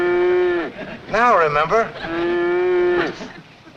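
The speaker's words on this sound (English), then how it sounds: "Sounds like a cow's in there." A cow moos loudly and close by, two long drawn-out calls with a wavering bellow between them, with a man's brief speech mixed in, coming from a cow carried as a Christmas present aboard the Cannonball train.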